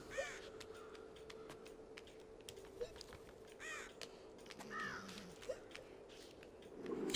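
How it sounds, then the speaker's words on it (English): Crows caw in the Child of Light video game village, several short hiccup-like calls scattered over a quiet, faint background with soft clicks. "Hiccuping crows are pretty funny."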